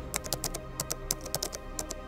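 Someone types a prompt for ChatGPT on a computer keyboard, a quick uneven run of crisp individual keystrokes, close and fairly quiet, with no talking.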